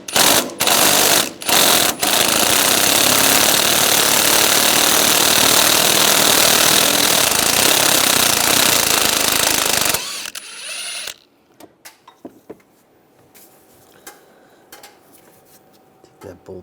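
A power ratchet or impact tool spins out a bolt with an 11mm socket on the lower intermediate steering shaft of a 1999-2006 Chevrolet Silverado: a few short bursts, then a long loud continuous whirring run that stops abruptly, followed by quiet handling clinks.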